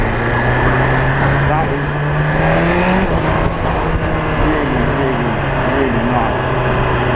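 A BMW S1000RR sports bike engine revs up and settles in rising and falling sweeps of throttle over a loud, close exhaust drone, while someone speaks briefly over it.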